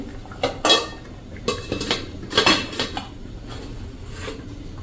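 A tin of dhokla batter set into a pot of boiling water on a kitchen stove, with several sharp metallic clanks and scrapes of metal on metal, close and irregular, without talk.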